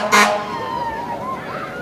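A historic fire truck in a July 4th parade lets out a short, loud horn blast up front, followed by a lingering wavering tone amid outdoor crowd noise.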